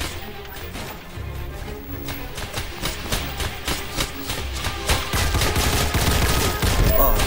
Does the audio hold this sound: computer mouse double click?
no